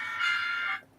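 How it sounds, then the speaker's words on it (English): A phone alarm sounds a brief, faint chime, a single bright tone that holds for under a second and then fades out. "That's my phone alarm to tell me to."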